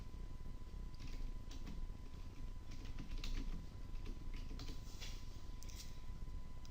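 Soft, scattered keystrokes on a computer keyboard while a name is entered in Mastercam CAM software, sitting close but quiet over steady background noise and a thin constant tone.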